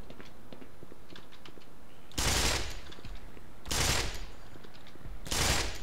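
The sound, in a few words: gun burst fire in the video game Black Mesa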